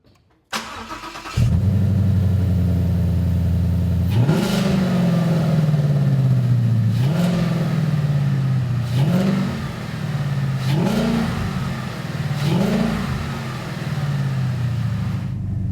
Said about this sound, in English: you can definitely hear the Roush intake pulling a lot of air into our engine